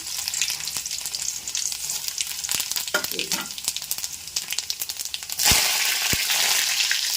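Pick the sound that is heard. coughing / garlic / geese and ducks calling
garlic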